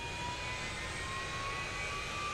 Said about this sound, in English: And now the engines are starting.